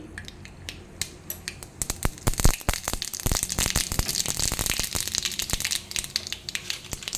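Dense, irregular crackling and sharp popping, like mustard seeds spattering in hot oil, building into a steady rapid sizzle of close pops.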